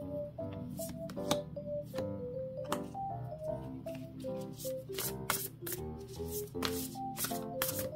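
Tarot cards are shuffled by hand in a quiet room, a continuous run of crisp riffles, flicks and light slaps, close and fairly soft, with no talking.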